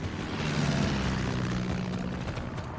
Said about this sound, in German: Boah, da ist wieder so ein Flugzeug.